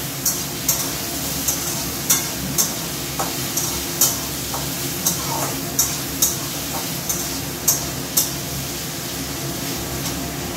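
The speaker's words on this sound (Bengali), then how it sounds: "আর একটা মাছ ভাজতে দিয়েছি, মাছ ভাজা দিয়ে দিই" Fish frying in a pan gives a continuous close sizzle, punctuated by regular light scrapes and taps of a utensil roughly every second.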